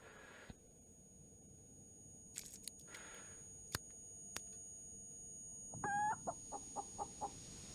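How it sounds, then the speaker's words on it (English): Chicken clucking in the space survival game Breathedge: a short burst of clucks followed by a steady run of about six evenly spaced clucks, moderately loud over a quiet background. "Chicken."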